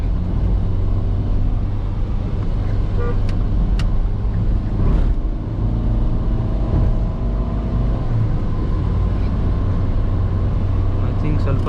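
Inside a Ford EcoSport cruising at high speed with the air conditioning on, a loud, steady low road and engine rumble fills the cabin, with a few faint clicks over it.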